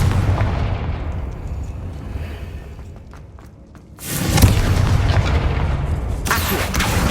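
A blasting Confringo fire spell explodes in Hogwarts Legacy, a heavy booming burst that swells suddenly out of dense game ambience and lingers as a loud rumbling crash.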